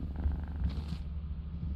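A cat purring as it is petted in a modded Lethal Company game. The purr is a soft, continuous low rumble, steady and alone with no talk over it.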